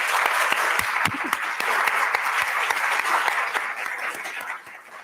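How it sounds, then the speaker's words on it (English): Sustained applause from a graduation ceremony audience at a medical school graduate medical education commencement, dense and steady throughout before tapering slightly at the end. "So let us give a round of applause again for our graduates."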